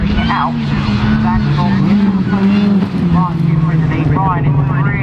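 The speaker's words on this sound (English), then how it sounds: "Ryan is really late on the brakes, getting the car nice and sideways through the right hander at the hairpin." Rallycross car at Croft Circuit braking hard and sliding sideways through a right-hand hairpin, its loud engine droning steadily with shifting revs, close and continuous over crowd and other track noise, while a voice talks throughout.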